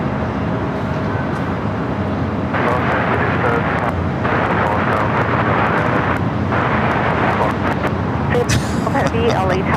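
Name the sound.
United Airlines Boeing 737 MAX 9 jet taking off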